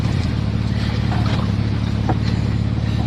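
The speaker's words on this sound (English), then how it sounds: "Lots and lots of wheel spin." A VW Fastback driving on snow in Florida with its wheels spinning: a loud, steady low engine drone mixed with rumbling wind noise, continuous for about three seconds.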